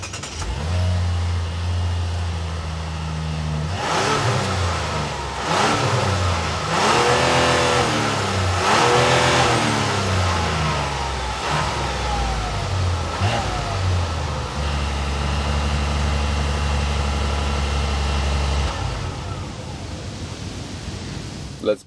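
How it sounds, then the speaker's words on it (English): Exhaust from a 2025 Mazda CX-90 Preferred mild-hybrid three-row SUV with dual pipes, idling low and then revving up in several loud, rising and falling sweeps before settling back to idle, with no talk. "let's take a listen to this mild hybrid exhaust"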